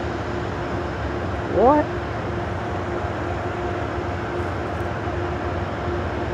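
An Amtrak train passes Croton-Harmon station as a steady, even rumble that fills the whole stretch, with a brief voice calling out near the start.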